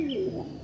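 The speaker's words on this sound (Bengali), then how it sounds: "এটা আন্ধ্রা কালসিরা পায়রা থাকছে, সিঙ্গেল মেল পায়রা থাকছে" A single male Andhra Kalsira pigeon cooing up close, a brief loud throaty coo with a rising-falling tone.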